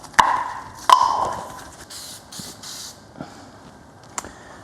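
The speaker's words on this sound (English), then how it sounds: "I'm going to spray down the back of this backing plate with some rust reform" A few short hissing bursts of aerosol rust converter sprayed close by onto a 1966 car's brake backing plate, with sharp taps and clinks of metal between them in a quiet workshop.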